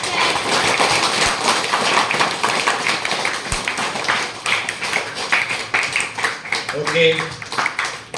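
A group of people applaud newly chosen leaders with steady, brisk clapping that runs throughout, while a voice speaks briefly over it near the end.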